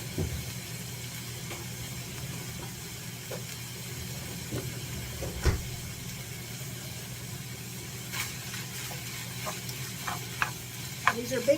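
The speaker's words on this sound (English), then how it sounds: "I'm just adding onions for flavor" Big frozen onion chunks fry in a pan with a steady low sizzle and occasional stirring scrapes, a few sharper clicks and pops near the end.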